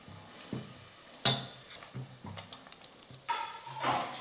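Mint and coriander paste sautéing in a pan for mushroom biryani gives a soft sizzle under intermittent scraping stirs, with a sharp metal tap on the pan and a brief louder hiss toward the end.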